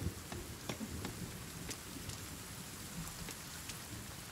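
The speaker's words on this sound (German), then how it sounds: "Oh, jetzt fängt es auch noch an. Ja, es fängt an zu regnen." Steady rain patters across the landscape in the survival video game The Forest, a dense, even wash of drops with faint low rumbles beneath and no talking.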